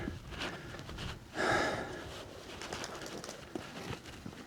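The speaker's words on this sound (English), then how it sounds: "it's definitely a lot of pigeons" Pigeons coo from inside a deep rocky pit on Snake Butte, a soft, brief, far-off flutter of calls rising over steady outdoor wind and rustle.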